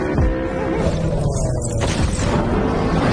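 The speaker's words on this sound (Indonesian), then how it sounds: "Jin-ah pun langsung melemparkan banyak bom ke arah So-hyuk." Bombs thrown during a motorcycle chase in a gangster action film burst in a loud booming blast, followed by rumbling crashes and debris under a thick mix of film sound.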